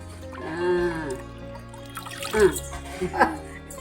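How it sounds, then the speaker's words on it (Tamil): Water is poured into a clay cooking pot on a village stove for a tuna and drumstick fish curry, a gurgling, rising pour followed by a few splashes and trickles, close by, with a voice and kitchen sounds around it. "வேகிறதுக்கு தண்ணி ஊற்றிடலாம்"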